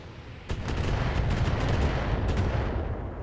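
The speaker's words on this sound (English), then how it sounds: "A lot of missiles coming down the range." Missiles firing and striking in the BattleTech video game, a sharp launch crack followed by a sustained rumbling barrage of explosions and impacts, loud and dense.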